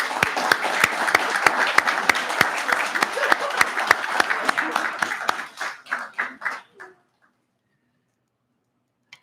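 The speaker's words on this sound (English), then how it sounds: "One last round of applause." Audience applauding at a University at Buffalo anesthesiology graduation ceremony, steady dense clapping with sharp accents that thins out and stops after about seven seconds, followed by silence.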